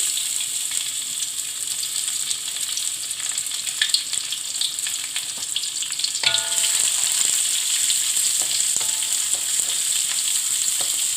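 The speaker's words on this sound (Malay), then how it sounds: "untuk sambal tumis kita goreng dulu ikan bilis" Loud, steady hiss of anchovies frying in oil with occasional stirring clinks, and a sudden metallic clank midway after which the sizzle grows brighter.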